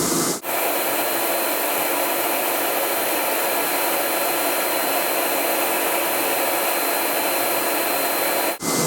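Inside a Versa Spa spray tanning booth, a drying pass blows as a loud, continuous broadband hiss of rushing air, starting abruptly and cutting off near the end, with no voices.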